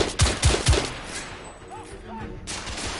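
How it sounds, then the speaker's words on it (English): Gunfire in The Order: 1886, a Victorian-era third-person shooter, comes as several sharp shots in the first second, followed by quieter game ambience with some faint effects. "I don't even see the people shooting at me no more."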